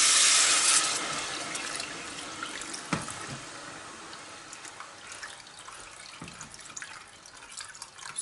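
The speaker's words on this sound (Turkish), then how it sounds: "Soğuk olan suyumuzu dökelim yavaş yavaş." Cold water poured slowly into a pot of soup with roasted peppers and garlic, a splashing trickle that starts loud and settles into a softer, steady pour with a few small clinks, no talking.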